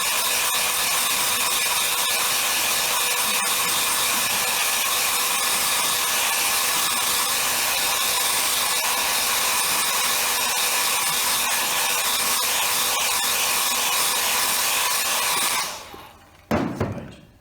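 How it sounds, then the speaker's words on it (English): A hair dryer blows loudly and steadily for a long stretch, a continuous rushing whir, then cuts off abruptly near the end with a brief thump. "when you use the air dryer,"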